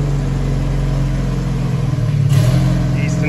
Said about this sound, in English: Easton's taking this car for the first drive